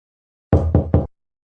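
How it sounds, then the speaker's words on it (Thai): Three firm knocks on a door in a hospital patient's room, evenly spaced and close, with nothing else around them. "เสียงเคาะประตู"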